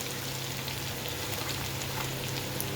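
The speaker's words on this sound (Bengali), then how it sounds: "আদা রসুন সমস্ত মশলা দিয়ে পেঁয়াজটাকে ভালোভাবে কষিয়ে এটা আমি মশলাটা কষিয়ে নিচ্ছি" Onion with ginger, garlic and spices frying in a pan, a steady close sizzle that holds evenly without pause.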